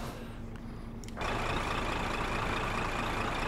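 A truck in Euro Truck Simulator 2 brakes to a stop at a red light, its engine rumbling low before a sudden burst of broadband hiss like an air brake release that continues steadily, with no speech.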